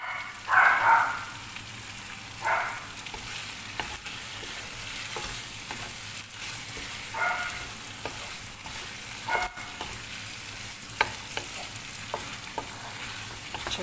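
Chicken curry with tomatoes and potatoes sizzles steadily in a pan, with a few louder bursts of scraping and stirring rising over the continuous frying hiss.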